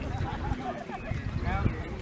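Hooves of horses of correct size and conformation for the 12th century clip-clopping at a steady walking rhythm, moderately close, under continuous outdoor background noise.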